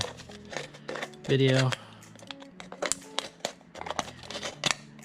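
Free Harbor Freight scissors snip through plastic plant labels in a series of short, crisp cuts and crinkles, close up, with a person talking throughout.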